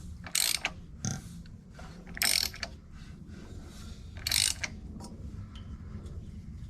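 A forgotten big block 400 engine is turned over by hand with a socket, giving bursts of ratcheting clicks between softer mechanical turning and hissing compression strokes, close and moderately loud.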